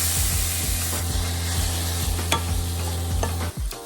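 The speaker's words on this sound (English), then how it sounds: "All right, so the veggies are pretty much cooked. I'm going to dump in the shrimp." Vegetables sizzle in a hot pan with shrimp just tipped in, giving a steady close fry with repeated scraping strokes of a spatula stirring through the mix.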